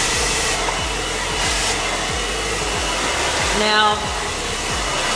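A hair dryer blows steadily and loudly through a hair blowout, its airflow roar shifting slightly as it moves, with a brief spoken word partway through.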